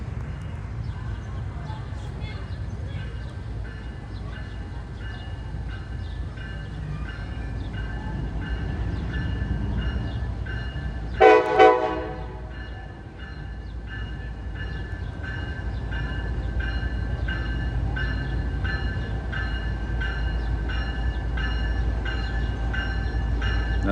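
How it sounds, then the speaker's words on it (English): A long street-running freight train rumbles and clatters steadily past through town, with one short, loud horn blast midway over the continuous rolling noise. "Train coming."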